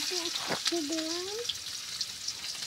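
Bay leaves and chopped onion frying in hot oil for a Bengali fish curry, a steady close sizzle and crackle under a voice talking.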